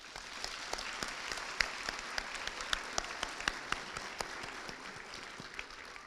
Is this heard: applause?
yes